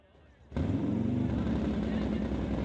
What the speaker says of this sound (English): Hey, that sounds like Nitro to me